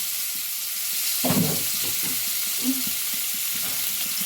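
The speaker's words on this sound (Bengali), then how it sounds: "এইবারে ওই একই তেলে আলুগুলোকেও ভেজে নেব" Potatoes fry in the same oil just used for eggs, giving a close, even sizzle with a burst of stirring clatter partway through, steady throughout and without speech.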